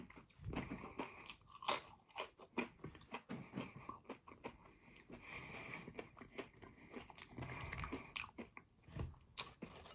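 Loud, close crunching and chewing of homemade taco salad nachos, with repeated sharp bites and wet mastication in an irregular rhythm throughout.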